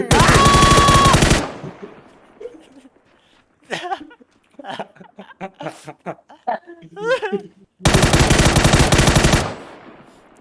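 Dense bursts of automatic gunfire from the video game PUBG, one loud sustained volley at the start and another near the end, with laughter and chatter from players in between.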